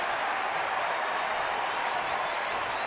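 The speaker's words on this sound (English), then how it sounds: "Crowd is really working it." A baseball stadium crowd applauds and cheers in a dense, steady wash of clapping and crowd noise, with an announcer's voice likely underneath.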